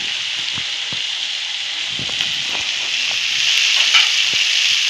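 Chana dal sabji, a split Bengal gram curry, sizzling in a pan on a gas stove as it is stirred, a steady hiss with faint scraping ticks, no talking.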